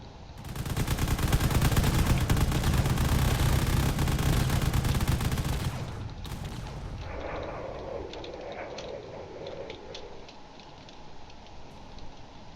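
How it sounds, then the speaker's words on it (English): A warship's railgun fires in a space battle in the Drone Wars video game, a loud, dense barrage of rapid shots lasting several seconds. Quieter, scattered distant impacts follow. "It is firing a lot of railgun."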